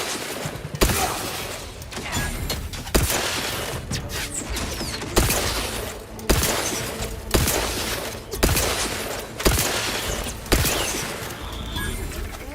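Video game gunfire in The Outer Worlds: repeated bursts of shots and impacts land every couple of seconds over a dense, continuous din of battle, loud and close, with no voices.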